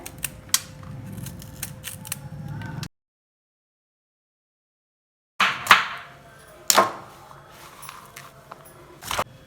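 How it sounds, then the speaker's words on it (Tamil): Bitter gourd being chopped into medium-size pieces with a knife on a board, a run of close, sharp cutting taps, then a gap of silence before more scattered knife strikes. "இதை நான் ஃபுல்லாக கட் பண்ணிவிட்டு உங்கள்கிட்ட காட்டுறேன்."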